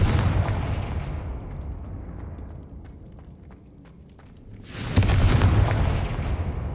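A Confringo spell explosion in Hogwarts Legacy bursts with a loud, broad blast that trails into a rumbling decay, then a second powerful boom follows, roaring and sustained.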